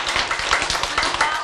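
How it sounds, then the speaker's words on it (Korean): A live audience claps at a sermon gathering, a quick patter of many hands in a short, even burst, fairly close and loud. "박수!"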